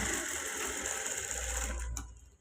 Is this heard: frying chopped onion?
no